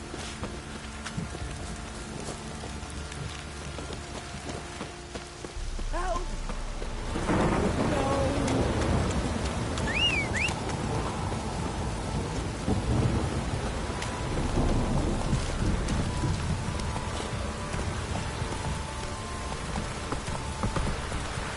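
Steady rain patters throughout in The Witcher 3: Wild Hunt while deep rolls of thunder rumble in, swelling louder partway through and lingering under the downpour.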